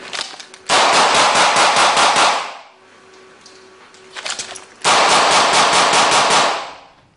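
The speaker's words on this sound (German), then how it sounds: "und dann gebe ich die Schüsse ab" Police firearms fire in two long, loud bursts of rapid automatic shots, close by, separated by a quieter pause with a few scattered reports.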